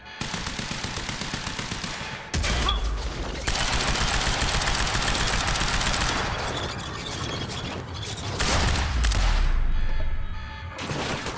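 Heavy sustained automatic gunfire from a large enemy gun in the video game Quantum Break, loud and continuous in long bursts with brief breaks, a deep boom near the start and mechanical clatter mixed in; no speech.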